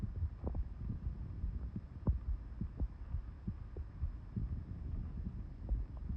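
Muffled, rhythmic low thumps of a heartbeat picked up through a phone, steady pulses over a dull background hum with no talking.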